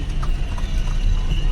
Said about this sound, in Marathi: घोडे नाचवतात.